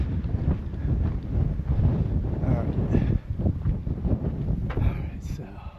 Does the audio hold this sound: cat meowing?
no